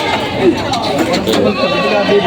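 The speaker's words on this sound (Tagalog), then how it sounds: "limang kambing na babae" Goats bleat among crowd chatter at a busy livestock market in Padre Garcia, Batangas, with brief calls rising over constant talk and background noise.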